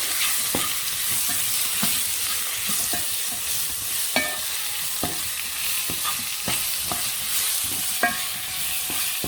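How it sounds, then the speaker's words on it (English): Onions frying with seasonings in a pan give a steady sizzle. A spoon stirs them with repeated scraping knocks about every second, close and clear, and no voices are heard. "I want your onions to cook really quick. It's good with all the seasonings."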